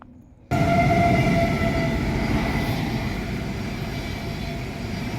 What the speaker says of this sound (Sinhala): කෝච්චියකුත් යනවා ඒ අස්සේ.